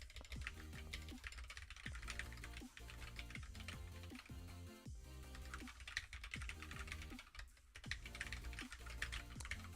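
Quiet computer keyboard typing runs through steady background hum, with irregular clusters of soft key clicks and brief pauses; no speech.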